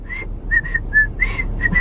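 Someone whistles the bright, bouncy Andy Griffith theme tune, short clear notes in a lilting rhythm, close and alone.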